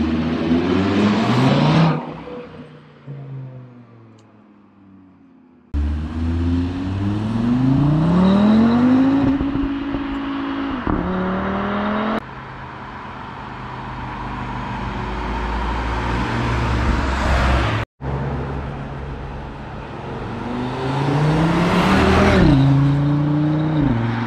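A 2022 Cupra Formentor VZ5 with its 390 hp engine revving and accelerating hard, loud exhaust climbing through several gears with sharp breaks at each shift, close and alone.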